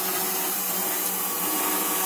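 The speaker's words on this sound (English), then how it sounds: "heavy duty square drive flex shaft hooked up to a 1/3 horsepower Fordham router motor" A heavy-duty square-drive flex shaft turns, driven by a 1/3 horsepower Fordham router motor that gives a continuous high, even whine, steady with no pauses and no one talking.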